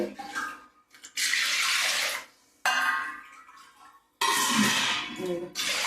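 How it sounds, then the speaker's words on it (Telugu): Tap water runs over lentils being washed for a lentil soup, coming in three loud gushing bursts separated by brief pauses, close and splashing in a kitchen sink. "కడిగా రెండు సార్లు ఇది వాటర్ అయితే పోస్తున్నానండి"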